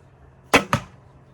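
A modified PSE Kingfisher 56 recurve bow fires an arrow in a backyard, giving two sharp close thumps in quick succession as the string releases and the arrow strikes the target.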